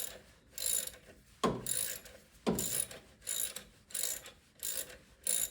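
A ratchet working a stubborn alternator bolt on a 2009–2013 Toyota Corolla, with repeated bursts of quick clicking in an uneven rhythm, close and fairly faint.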